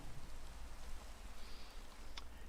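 Steady rain patters across a video game landscape on a mushroom island, a soft, even hiss of falling drops that runs continuously and fairly quietly, with no talk over it.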